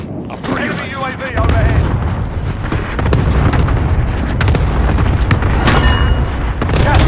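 Airstrike blasts land in Call of Duty Warzone, a loud sustained barrage of booming explosions and crackling fire rolling continuously after a brief quieter lead-in, with radio-style voice lines mixed over the din.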